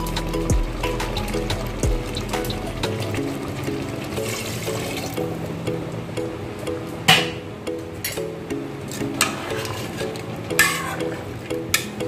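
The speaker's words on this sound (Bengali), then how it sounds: "আমি মিক্সির ধোয়া জলটা দিয়ে দিচ্ছি।" Mixer-rinse water poured into mutton curry with potatoes in a pressure cooker, a steady liquid splash and gurgle running over background music, with a few sharper clatters later.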